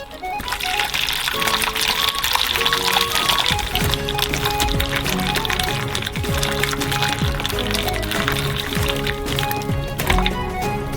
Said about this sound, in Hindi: स्पंज केक को नरम करने के लिए निचले प्लेट में गर्म पानी डालेंगे